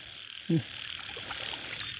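A single short, throaty frog croak sounds at close range during a night frog hunt in Isan, Thailand, over a constant high insect drone and faint background noise.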